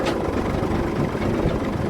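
A Ford tractor engine idling slowly at about 1200 rpm, a steady low throbbing chug, close and fairly loud, with no one speaking.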